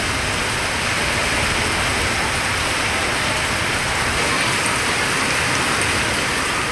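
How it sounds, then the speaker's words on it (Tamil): Heavy rain with strong wind pours down across town neighbourhoods, a dense, steady, loud hiss of rainfall that holds constant throughout without a break and with no voices. "பலத்த காற்றுடன் கனமழை வெளுத்து வாங்கியது"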